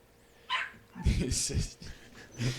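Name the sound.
dog barking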